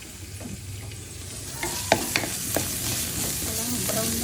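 Garlic stir-fries and browns in a pan with a soft, steady sizzle, broken by several sharp scraping clicks of a utensil stirring against the pan, close and without talk.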